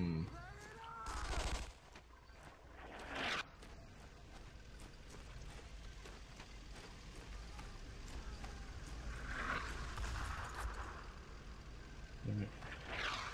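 Gunfire in the Brothers in Arms: Road to Hill 30 video game on original Xbox hardware, a few sharp shots early on, then distant rattling fire under a steady low battle rumble.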